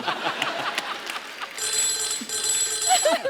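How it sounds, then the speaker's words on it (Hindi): A telephone rings with a bright, steady electronic trill that starts partway through, over a busy background of voices and room noise. "सर, आई एम सॉरी, मेरे को एक फोन आया"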